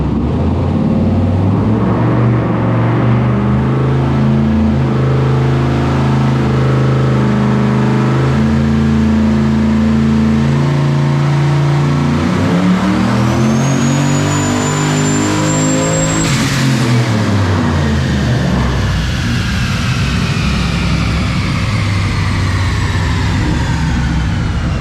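A twin-turbo LS-swapped Ford Falcon on a dyno pull, the engine loud and close as it revs steadily up through the range with a rising turbo whine, then drops off sharply and winds down.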